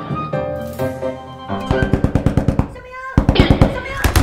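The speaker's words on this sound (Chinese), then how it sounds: "小明，为什么不开门呢" Sharp, rapid knocking on a door in two quick bursts of about a dozen raps each, loud and close, preceded by a short stretch of voice-like tones.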